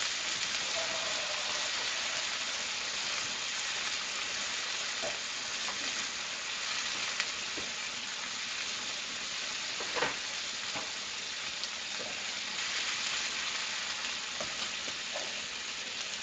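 Butter sizzles and fries steadily in a pan while a ribeye steak cooks, a continuous bright hiss with a few faint clinks, no voices.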